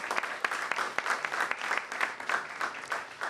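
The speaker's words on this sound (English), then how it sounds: "A big round of applause for them as well" An audience gives a sustained round of applause, many hands clapping densely at moderate distance with a few sharper claps standing out, steady and unbroken with no talking.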